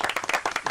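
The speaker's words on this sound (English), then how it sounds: "Round of applause for Dean, please" An audience claps a round of applause for Dean, a caller on a radio phone-in, with dense, steady hand claps close by and no talking over them.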